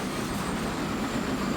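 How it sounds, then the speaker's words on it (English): A freight oil train in Transport Fever 2 rushes past on rails, a steady dense rumble of wagons with a thin high wheel screech running throughout, close and loud for under two seconds. "As one of our oil trains comes flying past. Oh, very screechy."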